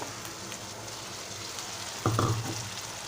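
Tomatoes drop into a pan of onion and chili frying in oil. A steady soft sizzle runs throughout, then a brief louder splash and crackle near the end as they land.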